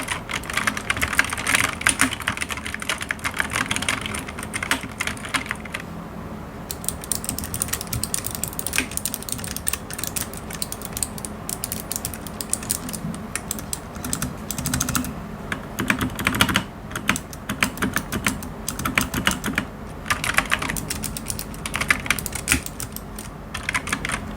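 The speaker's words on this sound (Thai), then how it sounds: "ต่อไปเป็นเสียงกดคีย์บอร์ดนะคะ" Rapid, continuous key presses on Keychron K8 brown-switch and K7 mechanical keyboards, close and fairly loud, with steady clattering bursts and short pauses throughout.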